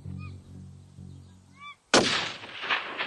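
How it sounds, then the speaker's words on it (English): A single loud rifle shot cracks and rolls away in echo during an outdoor hunt for peacock and goat, following a few seconds of bird calls and low ambient hum. "Nice shot, dude."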